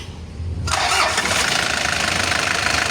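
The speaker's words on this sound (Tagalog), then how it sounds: "So pandarin natin guys." A Kia K2700 diesel engine cranks briefly, then catches and settles into a loud, steady near idle with a dense clattering rumble.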